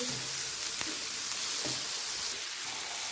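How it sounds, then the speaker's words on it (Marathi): Finely chopped capsicum sizzles steadily in a hot pan while being stirred, a close, continuous frying hiss with a few soft scraping taps. "आता यामध्ये टाकून घेत आहोत आपण बारीक कट करून घेतलेली शिमला मिर्च व्यवस्थित मिक्स करून घ्यायची"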